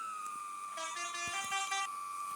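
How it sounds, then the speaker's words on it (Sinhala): A bus horn on a road trip to Kataragama sounds as a steady tone, then swells into a louder, fuller blare for about a second before easing back, heard from inside the bus. "හෝන් එකක් ගහමු."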